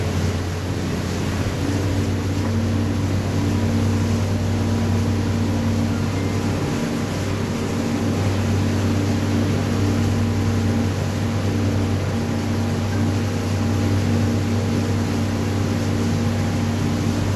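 Max 108 Pro, an 11-metre catamaran-hulled motorboat, accelerating at sea toward about 45 knots, with a continuous loud engine roar mixed with rushing water and wind noise that holds steady throughout.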